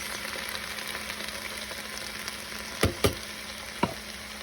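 Canned diced tomatoes are stirred in a slow cooker, a quiet steady hiss carrying a few sharp scraping knocks from the spoon near the end.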